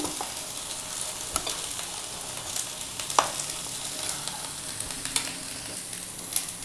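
Hot oil sizzles steadily with a tempering of cumin, curry leaves and turmeric, with occasional small pops and crackles throughout and no voices.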